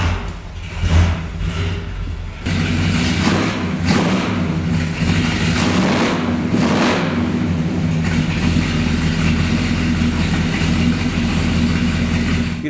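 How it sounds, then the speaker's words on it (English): A 1969 Chevrolet Chevelle SS 396 big-block V8 cranks over and catches with a loud thump, then settles into a steady, deep, rumbling idle that continues alone and close up. "How about a starter for you? Because this car sounds great,"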